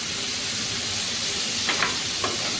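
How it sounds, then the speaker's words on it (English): Bacon and potato frittata cooking in a skillet and stirred with a spatula: a dense, loud hiss of sizzling fat throughout, with a few scraping strokes near the end, close-up and without speech. "And you can use any kind of spatula you want to stir this."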